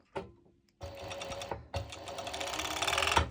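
A serger sews fabric for bikini bottoms in a few short, rapid whirring bursts separated by brief pauses, close and fairly quiet, with no talking.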